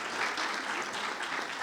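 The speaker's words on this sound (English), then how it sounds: "Let's give him another round of applause." Sustained applause from an audience at an ethical leadership keynote event, steady and dense clapping filling the room for the full stretch without any voices over it.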